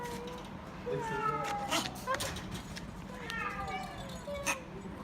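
A cat meows several times in quick, whining cries close by, with some soft human voice mixed in between the calls.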